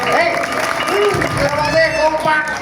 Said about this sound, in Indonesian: tepuk tangan buat masyarakat Lembean Kulon